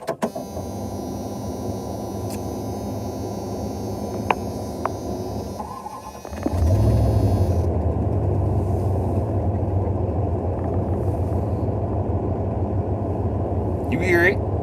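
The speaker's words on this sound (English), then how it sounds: "This truck run, boy. I'll crank it for you." Truck engine cranked and then idling steadily, a low continuous rumble that steps up after a brief whir, with someone talking over it.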